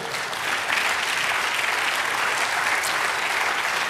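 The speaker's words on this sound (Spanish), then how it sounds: "Denle otro aplauso al Señor." A church congregation applauds for the Lord during a prophetic sermon, a dense, steady wash of many hands clapping at once, sustained and even throughout with no voices standing out.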